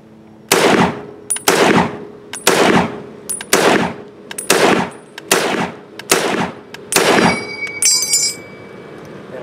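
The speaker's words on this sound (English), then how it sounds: "going to shoot one more magazine of 30-06 through the M1 Garand" An M1 Garand rifle fires a full magazine of .30-06 rounds: eight loud, sharp shots spaced about a second apart, each ringing out and decaying, followed by a bright metallic clink as the empty clip ejects.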